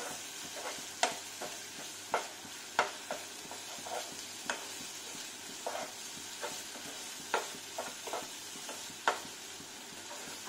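Thick masala gravy for paneer kofta sizzles softly in oil while a spoon scrapes and stirs it at a steady rhythm. The clicks of the stirring come regularly and fairly close, with no voices.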